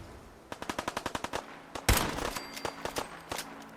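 Gunfire from a bolt action pistol in Fallout 4 during a fight with a deathclaw, a rapid run of sharp, evenly spaced shots followed by a heavier blast and more scattered reports.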